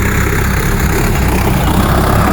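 Tractor engine idling outdoors on village ground, a loud, dense, continuous low rumble that stays steady and close for the whole moment, with no voices over it.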